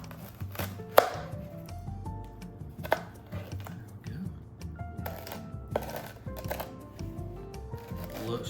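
Knife cutting a venison tenderloin in half in a home kitchen, giving a series of soft thuds and sharp clicks against a cutting board, with people talking quietly over the cutting.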